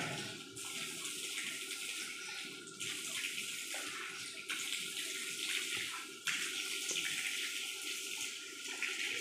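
Water is poured and splashed over the face while washing for ablution, a continuous close trickle with a few louder splashes and no talking.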